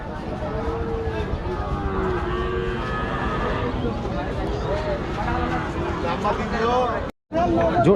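Cattle moo repeatedly amid a busy crowd hubbub at a cattle market in Rajshahi, several long lowing calls overlapping with loud chatter throughout.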